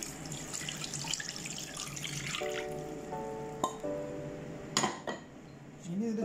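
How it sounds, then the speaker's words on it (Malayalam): Tamarind water is poured into an anchovy (nethili) chilli fish curry, a faint splashing trickle with a few soft clinks of a pot and utensils nearby. "ഇനി നമുക്ക് വാളംപുളി കലക്കിയ വെള്ളം കൂടി ഇതിലേക്ക് ഒഴിക്കുകയാണ്."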